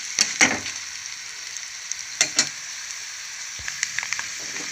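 Curry leaves dropped into hot oil for tempering sizzle and crackle with a few sharp pops near the start and in the middle, then settle into a soft, steady frying hiss.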